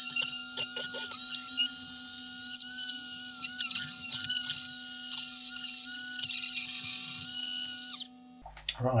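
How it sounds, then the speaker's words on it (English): Electric drill fitted with a burr grinds away a plastic part of an AMT 1:51 scale TIE Fighter model kit, a steady high whine running for about eight seconds before it cuts off. "electric drill with a burr in it. And I'm going to grind out this."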